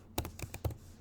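Typing on a computer keyboard, a handful of quick close key clicks in an uneven rhythm over a second, no talk.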